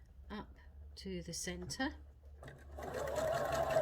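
A sewing machine stitches straight across a box pleat seam, its steady mechanical whir starting after a short stretch of talk and running to the end.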